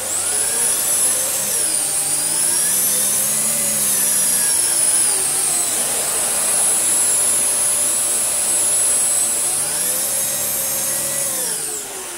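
A Dyson vacuum cleaner runs continuously with its spinning brush head on carpet, a loud steady high-pitched whine with motor tones that rise and fall as the head moves, no voices.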